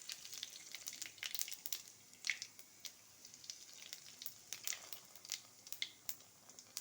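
Cumin seeds spit and crackle in hot oil in a wok for sago khichdi, a quiet bed of sizzle broken by irregular sharp pops, close up and with no one talking.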